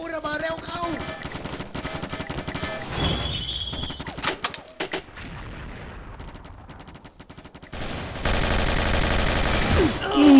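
Rapid bursts of gunfire from the shooter game XSHOT, dense volleys with brief lulls amid game music and effects, loud and close, swelling into a sustained barrage near the end.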